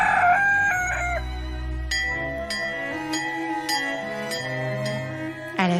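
A rooster on a farm gives a ringing crow at the start, followed by a run of sharp clinking, bell-like metallic strikes, clear and close with no talk.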